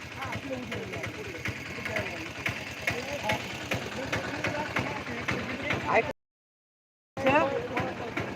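A mid-pitched tractor engine idles with a steady chugging throb while reversing as people talk over it; the sound cuts out briefly near the end before resuming.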